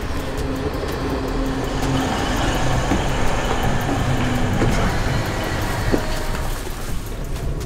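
Steady rumbling interior noise of a passenger train heading to the airport, a continuous broadband roar with faint rhythmic clatter and a brief higher squeal near the end, no talking.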